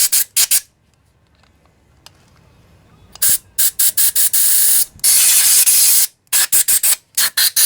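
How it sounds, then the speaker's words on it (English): Compressed air blasts in repeated loud, close bursts of harsh hiss while cleaning out parts of a Craftsman lawnmower that had been sitting and would not start, with a quiet stretch between bursts. "Another one of my favorite tools, compressed air. Really get in all the little cracks and crevices with this."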